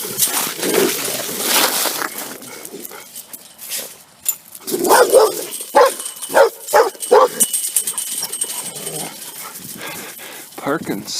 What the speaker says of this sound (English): Check out these dogs.